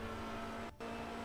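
Engine of a Radical race car in the iRacing sim game, a steady loud drone with a brief dip in the middle, alone with no talk.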